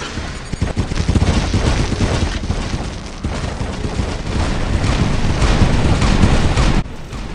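Gunfire and plasma weapon bursts from a video game battle crackle in dense, rapid volleys, loud and nearly continuous with booming hits mixed in, easing only briefly just before the end.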